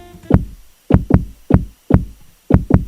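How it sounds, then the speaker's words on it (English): Spitfire Audio Media Toolkit knock sample with its low-pass filter fully down plays as a series of dull, heavy thuds in irregular single and double hits, loud and close, like a muffled heartbeat. "It's a knock with the filter all the way down."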